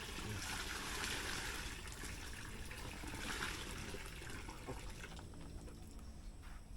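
Water runs in a steady, hissing stream while rinsing outdoors, draining off toward a garden; the flow stays continuous and fairly quiet throughout, with no talking over it.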